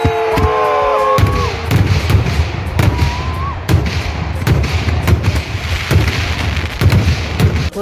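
Fireworks at the Uthralikavu Pooram festival in Kerala, a rapid string of loud cracking bursts and thuds with a few whistling rockets at the start, continuing densely throughout.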